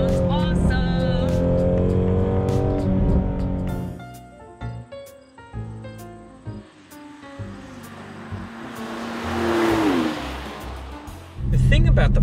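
A 500 hp Ford Mustang engine revs and accelerates with rising and falling harmonic tones, loud and close, while a person talks over it.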